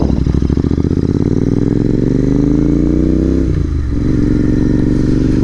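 A fully modified 2024 GT650 motorcycle revs hard with loud, rumbling aftermarket exhaust, the engine note climbing steadily then dipping briefly before roaring on, close and continuous.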